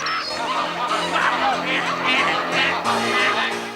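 Loud, continuous honking and quacking from a crowd of waterfowl, layered and overlapping, with no pause throughout.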